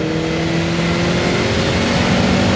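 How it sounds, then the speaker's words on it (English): Opel Speedster engine revving hard and pulling through the gears, a loud, close, continuous mid-pitched engine note with steady harmonic tones and no talk over it. "Let's do one last pull here, eh? First gear, 6 grand, into second,"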